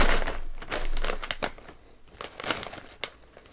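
A bag of Calbee Honey Butter Chips is cut open, with close crinkling of the foil packet and a few sharper crackles and tears scattered across a few seconds, and no talking.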